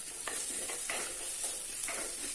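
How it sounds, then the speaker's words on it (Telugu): Ginger garlic paste frying in a pan with curry leaves, giving a steady close sizzle with a few soft stirring scrapes and no voices. "ఇప్పుడు దీంట్లో 1/2 టేబుల్ స్పూన్ వరకు అల్లం వెల్లుల్లి పేస్ట్ యాడ్ చేసుకొని మంచిగా ఫ్రై చేసుకోవాలి."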